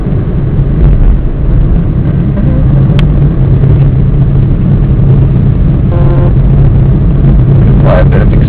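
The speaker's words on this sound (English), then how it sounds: "On the highway. Fourth gear. Coming up to a curve to get onto the highway." A manual transmission car cruising in fourth gear on a highway, heard from inside as a steady, loud low engine and road drone that holds constant throughout, with no clear talk.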